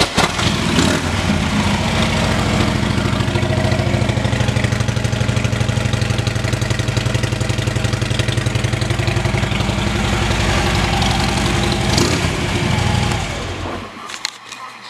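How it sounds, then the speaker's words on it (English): A 2011 Harley-Davidson Street Glide fitted with Reinhardt exhaust idles indoors at a dealership, a loud, steady, deep rumble that runs unbroken for about thirteen seconds before cutting off. "Take a listen to the Reinhardts after the fuel pump does its thing."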